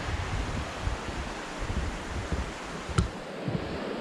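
Roaring Brook, a stream by a footbridge in Baxter State Park, gives a steady, even rush of flowing water with one faint click partway through.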